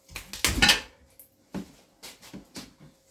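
Glasses and plates clink and rattle in a dusty abandoned house, a dense burst of clattering crockery followed by several shorter, separate knocks and chinks, close by and with no talking.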